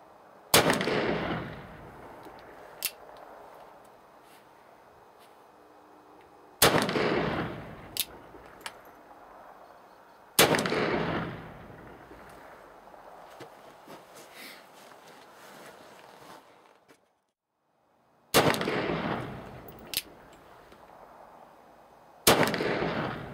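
Five loud gunshots from a .44 caliber 1860 Colt Uberti cap and ball revolver fired at targets outdoors, spaced several seconds apart, each a sharp blast with a long echoing tail and faint small knocks between shots.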